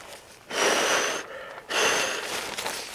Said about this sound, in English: I can blow a lot of air now.